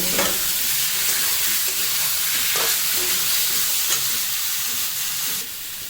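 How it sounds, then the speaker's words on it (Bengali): Fish sizzles loudly in a pan as it is sautéed in gravy, a steady close hiss with occasional scraping stirs, the sizzle dropping slightly just before the end. "মাছগুলো আমি এবার কষিয়ে নেব"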